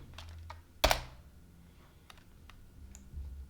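Sparse keystrokes on a computer keyboard while typing a search, one sharp louder click followed by a few faint scattered taps over a quiet room hum, no speech.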